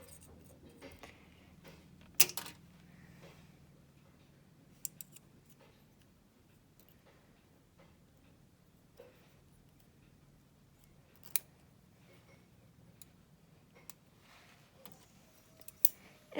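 Tin snips cutting silver sheet give faint, sparse metallic snips, a few isolated clicks spaced several seconds apart in a quiet room.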